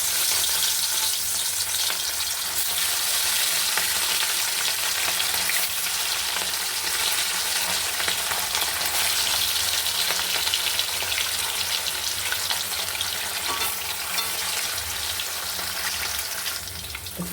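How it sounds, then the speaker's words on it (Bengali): Rohu fish pieces fry in hot oil in a kadai, a loud, dense, continuous crackling sizzle that holds steady and close throughout, with no voices. "এবার বন্ধুরা একটা করে মাছ ছেড়ে দিচ্ছি"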